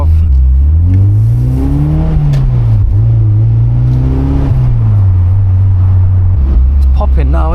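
Car engine revving hard with exhaust popping, a loud close rising and falling engine drone with crackles near the end, while people talk over it.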